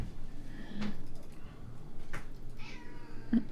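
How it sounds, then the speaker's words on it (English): Cats meow several times in short, separate cries spread across a few seconds, moderately close and fairly quiet over a low background hum. "Chaos cats."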